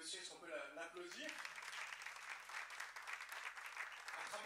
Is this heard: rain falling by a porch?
no